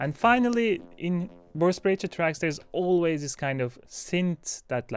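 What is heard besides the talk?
No everyday noise stands out behind the speech.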